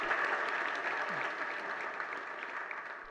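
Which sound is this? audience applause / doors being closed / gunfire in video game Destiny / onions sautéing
audience applause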